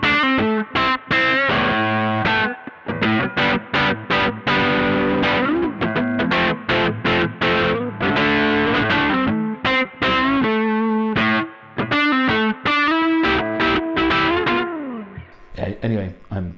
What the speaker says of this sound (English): The Lovepedal Superlead, a really old, cool, unusual and rare Lovepedal distortion box.